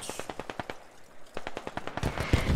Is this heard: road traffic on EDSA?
no